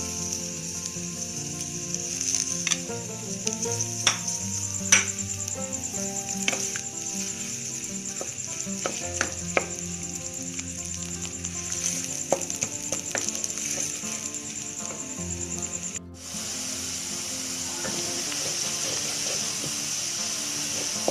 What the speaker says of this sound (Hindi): बड़े साइज की प्याज, इसको मैं लाइट ब्राउन करूँ।